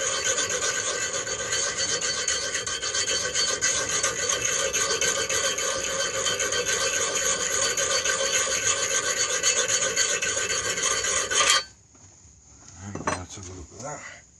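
Steady, close abrasive rubbing as rust is scoured from an old steel axe head under pressure, a harsh continuous scratch that stops abruptly near the end, leaving a few faint knocks.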